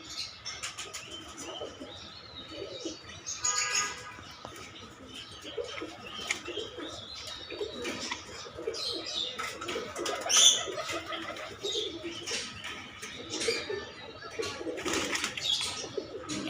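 Domestic pigeons coo repeatedly at close range, mixed with small chirps and an occasional brief flutter of wings, all steady and moderately loud.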